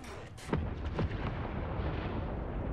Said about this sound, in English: Got arty fire on me.